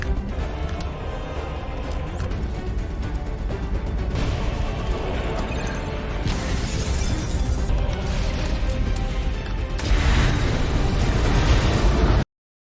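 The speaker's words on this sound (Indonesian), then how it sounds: "mereka terjatuh akibat ledakan dan serangan dari anak buah Cobb" Rumbling blasts and crashing bursts build over a dense, roaring background, ending in a louder surge of noise before cutting out.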